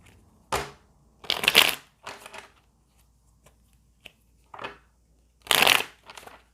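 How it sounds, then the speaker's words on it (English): Tarot cards are shuffled in several quick bursts of riffling and sliding, close and crisp, with short pauses of near silence between them. "Let me shuffle this and see what's going on."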